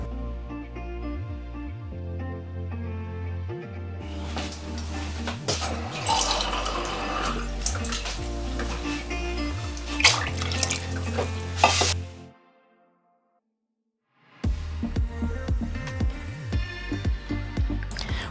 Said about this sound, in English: Next up, we will add enough water for it to go through 10 whistles without a problem.